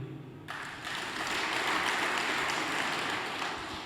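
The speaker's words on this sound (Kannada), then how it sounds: "ಒಂದು ಚಪ್ಪಾಳೆ ತಡ್ತೀರಾ?" An audience at a religious gathering bursts into applause after a brief quiet start, dense clapping rising and holding steady from a crowd nearby.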